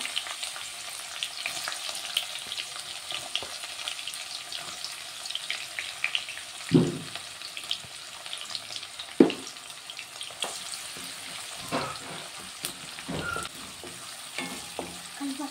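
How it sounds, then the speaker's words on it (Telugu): Sliced onions fry in hot oil in a pan for a potato and gongura curry, a steady, faint sizzle broken by a few sharper pops and stirring clatters. "ఈ ఉల్లిగడ్డలన్నీ కొంచెం ఫ్రై అవ్వాలి."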